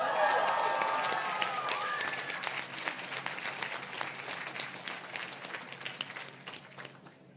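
An audience at a PharmD white coat ceremony breaks into sustained applause, dense clapping that starts loud and gradually thins and fades over several seconds.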